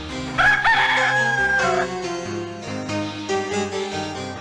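Rooster crowing in the Discworld 2 video game, a bright, drawn-out cock-a-doodle-doo rising over a busy musical background, heard once near the start and fading after about two seconds.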